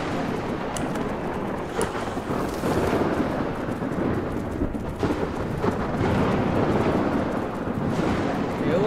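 A thunderstorm rolls through ARK: Scorched Earth, a dense, steady roar of wind and rain with low rumbling swells that never fade across the stretch, with a voice faintly present beneath it.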